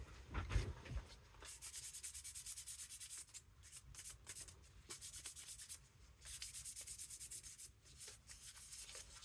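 A rag or pad rubbing finish off a vintage wooden handle, close and continuous in long back-and-forth scrubbing bursts with brief pauses between strokes, no voices.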